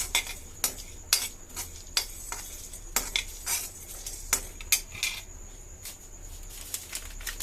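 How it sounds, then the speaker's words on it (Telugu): Dry cumin seeds, coriander seeds, cinnamon bark and cloves are lightly fried in a pan, heard as quiet, scattered stirring clinks and scrapes of a utensil against metal at an unsteady rhythm, with no voices. "జీలకర్ర చెక్క అలా మొగ్గలు లాలిక్కే లైట్గా ఫ్రై చేస్తున్నా"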